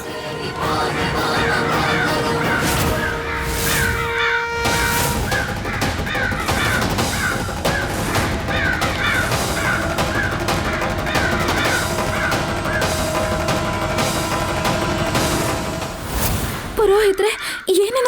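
Crows caw over and over during a dramatic Kannada TV serial scene at a puja, their harsh calls mixed into loud, layered background music that runs throughout.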